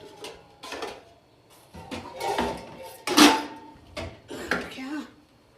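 A cooking pot and spoon being swapped and handled in a home kitchen while baking bread, with a series of clanks, scrapes and metallic knocks, close by, mixed with intermittent speech.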